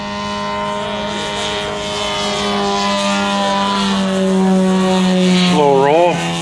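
A 50% scale Christian Eagle model aerobatic biplane with a four-cylinder engine drones steadily overhead at an air show, a strong harmonic engine tone that swells louder, then wavers and pitches up as it pulls up near the end.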